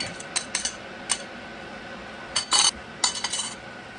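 A metal utensil scrapes and clinks against a pot while fish sarciado ingredients are stirred in a home kitchen, giving a few sharp taps and then short bursts of scraping, close by over a quiet background.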